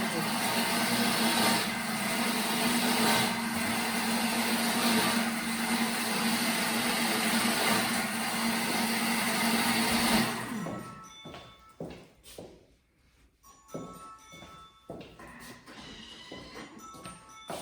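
A Thermomix food processor runs steadily at speed 6 mixing a pea guacamole, a loud continuous whir lasting about ten seconds before stopping, followed by quieter clatter and room sounds.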